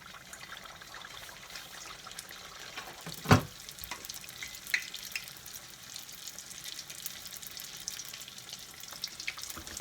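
Italian panzerotti, savoury fritters, sizzle steadily in hot oil with a soft continuous crackle, broken by one sharper clatter near the start and a few small pops.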